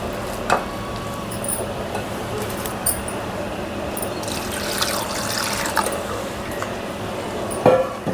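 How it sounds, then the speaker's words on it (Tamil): Water splashes and trickles into a bowl of instant ragi dosa batter, with light intermittent drips and stirring sounds over a steady wet background. "இப்போ தண்ணி சேர்த்துடலாம்."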